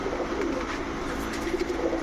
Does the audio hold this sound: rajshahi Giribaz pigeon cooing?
yes